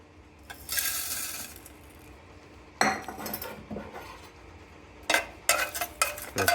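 A metal butter knife pokes and squashes orange plastic into a heated injection press, giving sharp scraping clinks in irregular bursts against a quiet background hum.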